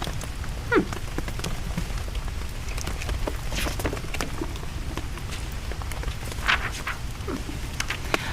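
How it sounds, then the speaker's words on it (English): Rain falls outside, heard from indoors as a soft steady patter with scattered louder drops, fairly quiet and even throughout. "Do you want to hang out with me while it's raining outside?"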